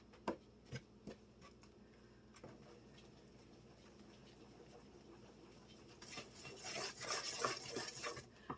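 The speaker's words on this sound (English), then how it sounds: "I usually like to mix it till all the lumps are gone" Chocolate cake batter is stirred in a bowl: a few sharp utensil taps on the rim, a quiet stretch, then faint, close scraping and soft wet mixing strokes that grow busier toward the end.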